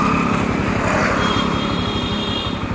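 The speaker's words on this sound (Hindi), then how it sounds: "मैंने इसको फिफ्थ पे कर दिया है, 40 की स्पीड में इजी चला रहे हैं एकदम आराम से।" A Bajaj Pulsar NS 125 motorcycle cruises in fifth gear at an easy, steady speed, its engine giving an even, close-up drone mixed with wind and road rush, with no talking.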